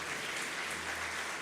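Church congregation applause during a sermon, a brief, faint, even hiss of many hands clapping heard from a distance.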